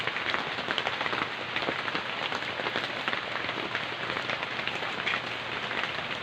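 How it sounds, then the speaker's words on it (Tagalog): Rain falling during outdoor work with anahaw leaves, a dense continuous patter of drops on a surface, steady and fairly close with no voices over it. "naulan nabutan na ang, ang ulan"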